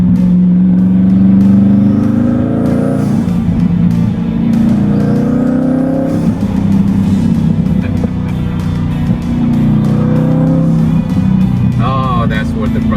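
Heavily modified twin-turbo Chevrolet Corvette C8 making 920 wheel horsepower, revving close by with a deep, throbbing exhaust drone that swells and falls across several rev pulses, loud and continuous with a person talking over it.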